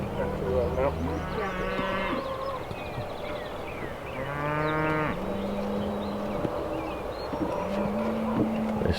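Cows low loudly near a feed trough on a farm, several long drawn moos one after another, with a tractor engine droning steadily underneath.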